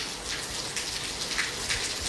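Steady rain falling over Hisar, a dense continuous hiss with scattered drop patter, fairly even and moderately loud throughout with no voices.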